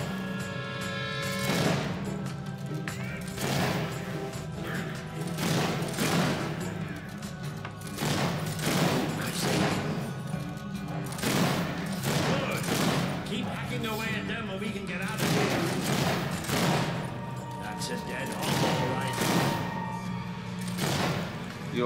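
Gunfire from shooting enemies in Fable 3, a steady series of sharp, loud shots about every second or two, with short bursts and thuds between them.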